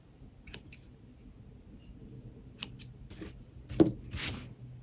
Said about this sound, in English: I think I'm going to snip a little bit more off here.